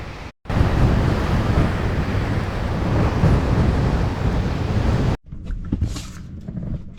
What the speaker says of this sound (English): It's windy out there, guys.